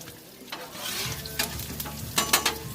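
Steak and lobster ingredients stirred on a Blackstone griddle: a loud sizzle with repeated metal spatula scrapes and clacks, close and busy, building toward the end.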